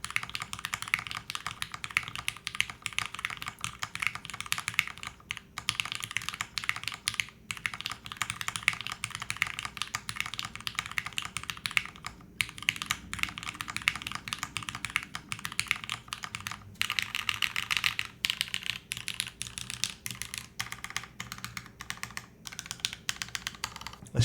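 Steady close typing on an Alice-layout ergonomic mechanical keyboard, with shift keys fitted in place of the spacebars, giving a continuous dense stream of clicky keystrokes with brief pauses.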